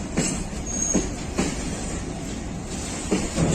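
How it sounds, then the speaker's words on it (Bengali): A very long Indian freight train of about 114 wagons rolls past on a Bangladeshi rail line with a steady loud rumble, rhythmic clickety-clack of wheels over rail joints and a faint wheel squeal. "বাংলাদেশের বিগেস্ট মালবাহী ট্রেন বলা চলে এই ট্রেনটি"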